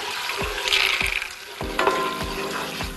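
Pistachios frying in melted butter in a pot, a steady soft sizzle with repeated stirring knocks and scrapes at a regular rhythm, close and moderately loud.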